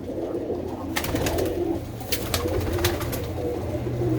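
Pigeons in a loft coo softly and repeatedly, low throaty calls overlapping with a few brief flutters and clicks in the background.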